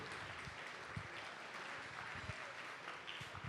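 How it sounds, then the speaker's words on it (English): Guests at a 2016 scholarship banquet dinner applaud themselves, a steady, fairly distant wash of clapping with no one talking over it. "please give yourself a nice round of applause for attending ACE Scholarship Banquet Dinner 2016"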